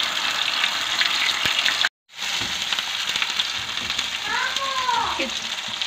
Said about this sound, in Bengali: 1 মিনিটের মতো আমাদের পেঁয়াজ এবং টমেটোর পেস্টটাকে রান্না করে নিতে হবে।